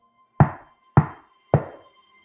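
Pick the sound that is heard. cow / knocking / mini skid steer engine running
knocking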